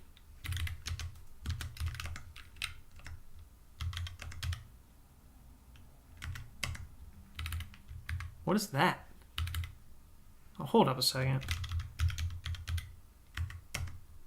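Typing on a computer keyboard while setting up a code editor: quick, quiet clicking keystrokes come in bursts with pauses, and a nearby voice speaks briefly.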